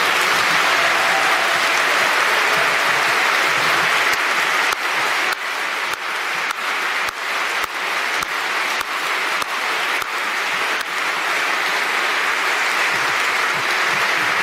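Loud, dense applause from a seated audience at a Bruges Group political gathering, greeting Sir William Cash, sustained for the whole stretch with a few sharper individual claps standing out.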